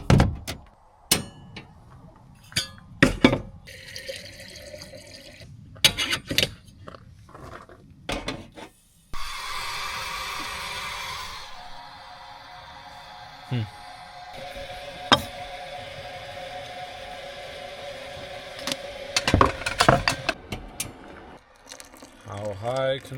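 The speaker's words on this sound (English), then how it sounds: "How high can I pour the coffee?" Coffee being made and poured outdoors at a mountain campsite beside a teardrop trailer, with clunks, rubbing and mechanical handling noises, a sustained hiss or pour in the middle, and brief talk at times.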